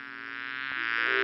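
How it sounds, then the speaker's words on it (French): A bee in a French fairy tale buzzes steadily and close by as it flies off, its tone rising slightly over about a second with no voices over it. "Mais juste à ce moment-là, une abeille s'envola."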